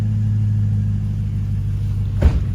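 A car engine idles roughly with a steady low rumble and slight unevenness, close by, then a brief louder knock or burst near the end.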